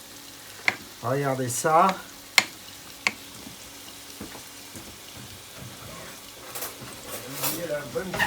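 Peas tipped into a hot pan with cream nearby, giving soft sizzling and stirring noises amid a few sharp clatters and pan knocks, while someone talks over it in French in a home kitchen.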